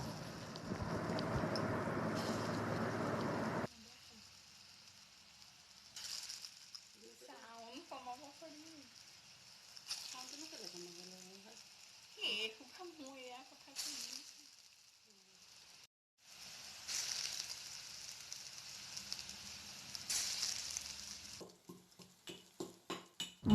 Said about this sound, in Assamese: এতিয়া ইফালে কেৰাহী এটাত মই তেল অলপ গৰম কৰি লৈছোঁ আৰু তাত এটা এটাকৈ